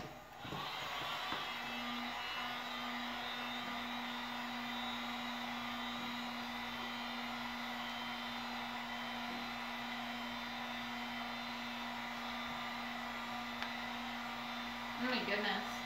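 A heat gun runs on a cosplay helmet part, giving a continuous, even blowing whir with a steady hum that lasts the whole clip, close and moderately loud, ending with a brief shuffle of handling.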